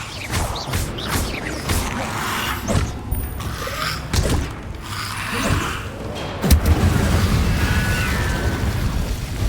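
Confringo fire spell blasts from Hogwarts Legacy, a string of booming explosive bursts with cracking, crashing impacts that build to a sustained rumbling roar, loud and near, with no talk.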